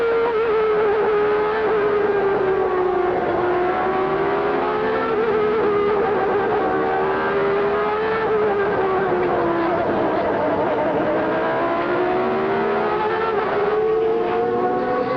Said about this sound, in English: let's just lay off for a minute here and listen to it and watch it all happen from Ayrton Senna's point of view